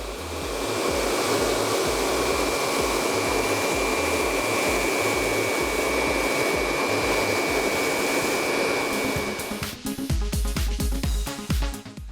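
A hair dryer blows steadily and loudly through a GK Hair blow-dry, its constant airflow roar near and alone, then cutting out abruptly near the end, leaving handling knocks.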